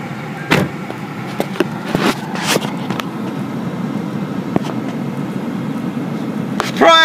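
A car drives along with a steady low road rumble throughout, broken by a few sharp clicks and knocks from inside the cabin, close and moderately loud.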